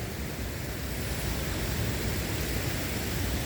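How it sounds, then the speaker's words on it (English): A small waterfall about five to six feet high rushes with a steady, dense roar from close by. No voices break through the continuous noise. "we're on top of the waterfall"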